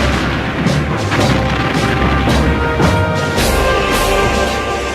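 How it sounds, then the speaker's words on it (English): Heavy cannon fire in a naval battle between oar-powered galleys, with dense, rolling booms and crashes overlapping continuously at close, loud range. "The battle began amidst a blaze of cannon fire."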